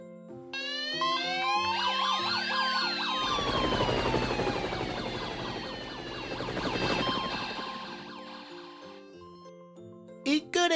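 Several wailing sirens rise and fall over one another, loud and close, with a burst of clattering near the end.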